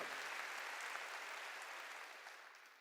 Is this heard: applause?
yes